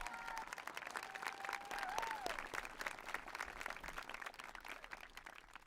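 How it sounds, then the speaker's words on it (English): A graduation audience at Tiverton High School in June 2021 breaks into sustained applause, a dense wash of many hands clapping from a distance, rising and then slowly tapering over several seconds. "who deserves a round of applause"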